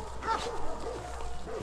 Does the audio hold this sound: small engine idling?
no